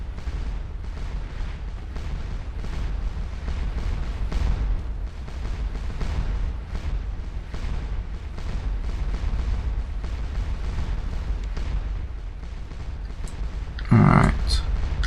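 Massed cannon fire from a Waterloo-era battle in Scourge of War Waterloo at Ligny, a dense continuous roll of distant booms and rumbling artillery throughout, with a brief sharper crack near the end.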